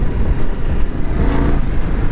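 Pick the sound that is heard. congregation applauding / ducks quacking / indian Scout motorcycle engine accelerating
indian Scout motorcycle engine accelerating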